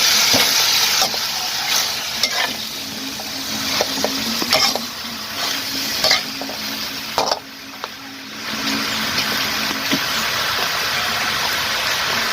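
Kale and tender pork stir-frying in a pan, producing a loud continuous sizzle broken by repeated clanks and scrapes of a spatula mixing the vegetables.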